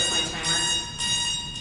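A timer alarm goes off during a seminar talk, giving a steady electronic tone that pulses in repeating bursts at moderate loudness with no talk over it.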